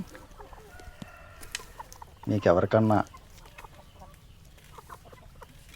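Country hens of a parrot-beak breed give a loud burst of clucking at close range for under a second, with faint scattered clucks and a few quiet spoken words around it.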